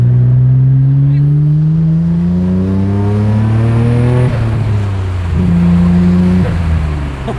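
A Nissan Skyline R34 GT-R, heard up close from inside with the windows open, pulls hard through the gears, its engine note climbing in pitch, dropping briefly at each shift, then rising again, loud and steady.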